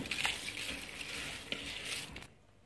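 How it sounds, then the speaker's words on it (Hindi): Rice pours into a pot of boiling water while cooking matar pilau, a steady rushing, bubbling hiss that runs close and fairly loud for about two seconds, then cuts off to near silence. "पानी उबलने पे इस तरह चावल डालें"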